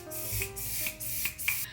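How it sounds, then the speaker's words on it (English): A One Size Until Dawn makeup setting spray bottle is shaken and spritzed in quick, soft, evenly spaced hissing puffs close to the mic, with no voices. "I'm gonna use the One Size Until Dawn setting spray."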